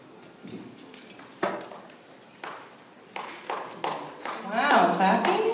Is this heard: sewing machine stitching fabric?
no